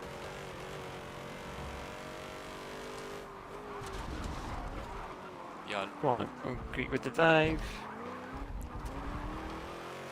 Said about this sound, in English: This Mustang just sounds awesome, doesn't it?